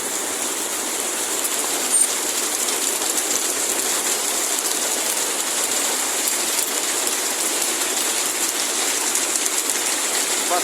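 Dense hailstorm in Vicenza, Veneto, a steady hiss of hailstones pelting the ground and surfaces without pause, loud and even throughout, with no voices.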